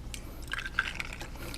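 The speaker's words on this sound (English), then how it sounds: "I'm just going to dump tiger nuts in there until it's filled up all the way to the top of the jar" Tiger nuts tip into a jar holding water, a short wet burst of small splashes, trickles and clinks, close and fairly quiet.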